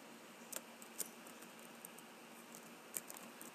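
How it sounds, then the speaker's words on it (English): Someone types on a computer keyboard while entering a chart title in Microsoft Excel, producing faint, sparse key clicks in a quiet room, with a few sharper taps standing out. "So I will go ahead and start typing."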